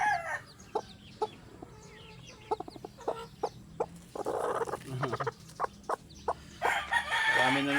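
Newly hatched chicks peep in rapid, high, repeated chirps beside clucking hens at a countryside farm, close by and fairly quiet, with brief louder flurries toward the end.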